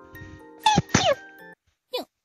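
Two sharp, close sneezes in quick succession from a baby video game character, then a brief pause and a small sniffly vocal sound, over a faint musical background.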